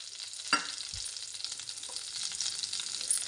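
Chopped onions and green chillies fry in hot oil in a pan, giving a bright continuous sizzle with a sharp clink of a utensil early on and occasional stirring scrapes.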